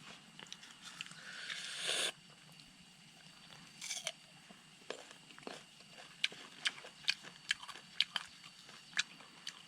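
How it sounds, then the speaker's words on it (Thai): Close, crisp bites into a mango, with a loud wet crunch near the start and another around the middle, followed by a run of sharp, rhythmic chewing clicks and smacks; no talking. "กินมะม่วงต่อครับ"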